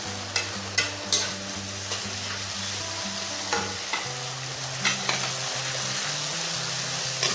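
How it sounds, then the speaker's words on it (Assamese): Spices, tomato and chillies fry in a pan for a chicken curry with banana stem, a steady close sizzle with sharp scraping stirs breaking through every second or so, and no one speaking. "এইখিনি অলপ সময় 3 মিনিট ভাজিব লাগিব, কাৰণ জলকীয়া কেঁচা পৰি গৈছে।"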